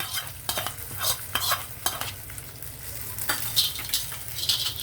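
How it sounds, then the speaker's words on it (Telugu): Hot tempering is spooned over chutney beside a gunta ponganalu pan, producing a brief sizzle among repeated clinks and scrapes of utensils stirring close by. "ఇప్పుడు ఆపేసి పోపు మీద ఇది చట్నీ మీద పోపు వేసేసుకోవడమే"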